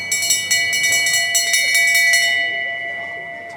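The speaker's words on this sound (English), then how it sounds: "and the last lap bell." A metal last-lap bell is rung by hand at an athletics race finish line, giving a rapid, loud run of ringing strikes that fades into a lingering decay.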